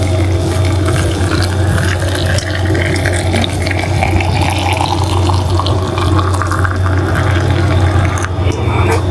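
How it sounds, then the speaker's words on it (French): Boiling water poured straight onto a dish of Algerian sefa, a steady loud watery rush with a rising fill tone over a constant low hum, continuous and close with no talk. "Je vais mettre l'eau bouillante directement."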